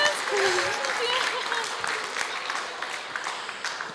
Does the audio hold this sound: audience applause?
yes